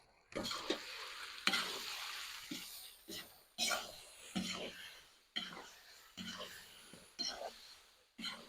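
Repeated scraping and stirring strokes in a cauldron of beef plov, each followed by a loud sizzle of frying food, in uneven bursts close by.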